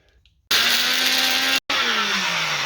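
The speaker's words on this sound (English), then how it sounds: "that's all just going to be put into a grinder" An electric grinder whirs loudly and steadily as it grinds roasted whole spices into Madras curry powder, stopping briefly for a moment and then starting again.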